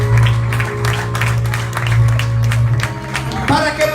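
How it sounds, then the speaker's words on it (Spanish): Enthusiastic applause from a church congregation, sustained and fairly loud, with a steady low hum underneath. "dale ese aplauso a la gloria de Dios"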